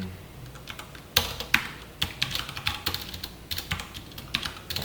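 Close, rapid computer keyboard typing of code, with irregular bursts of crisp keystrokes and short pauses, and no voices.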